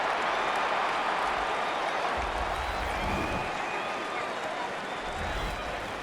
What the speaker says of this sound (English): several thousand 12th men and women cheering as the Seahawks win at home